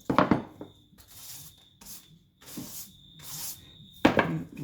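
Sandpaper rubbed by hand along the radius of a Red Special guitar fingerboard, heard as a series of soft, scratchy strokes in a steady back-and-forth rhythm with short pauses between them and close by.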